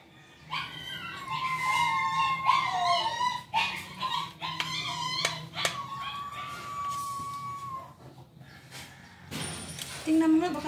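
A newborn puppy howls and whimpers in thin, wavering cries, a run of repeated high wails at close range with short yips between, while people murmur quietly in the background.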